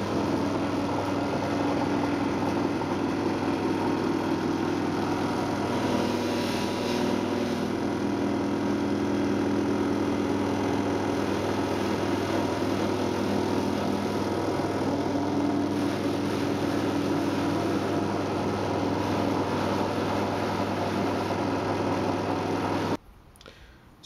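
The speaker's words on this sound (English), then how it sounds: "So now the ring's been polished on the Rouge wheel, the Rouge mop." A silver ring is polished against a spinning rouge buffing mop on a motorised polishing lathe. It gives a steady, loud motor whir and rushing hum that holds for over twenty seconds, then cuts off abruptly near the end.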